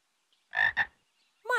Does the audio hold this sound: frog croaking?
yes